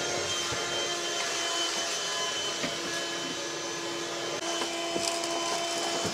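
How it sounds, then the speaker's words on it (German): Vacuum cleaner running in a motorhome at an overnight spot in Gravelines, a steady whining drone with a few small clicks and knocks over it and no talking. "Ein guter Staubsauger, gell?"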